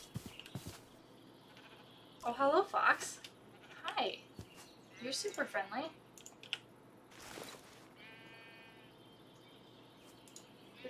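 Blocky Minecraft sheep give short, wavering bleats in a modded survival game, soft and intermittent beneath a player's casual chatter and faint game clicks.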